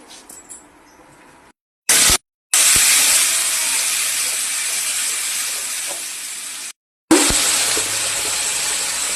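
Spice masala sizzles and hisses loudly in hot oil for a Bengali prawn curry with large prawns, a steady frying roar broken by a few brief silent gaps, with no talking.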